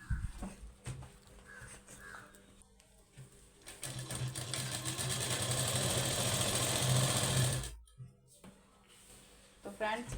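A sewing machine stitches blouse lining onto fabric, its steady mechanical whir building into a long continuous run, with a voice talking softly before and after the stitching.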